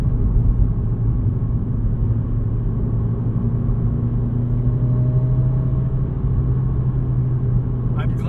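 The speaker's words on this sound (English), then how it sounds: "what I really like about this exhaust system that's on here is it gives you some of the rumble" A 2020 Subaru WRX boxer engine with an aftermarket exhaust gives a steady, loud, low rumble from inside the moving car, continuous under the road noise.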